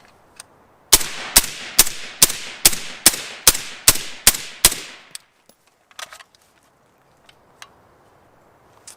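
A suppressed AR-style rifle with a mil-spec bolt carrier group fires ten rounds in a steady, evenly spaced string of sharp, loud cracks, followed by faint handling clicks.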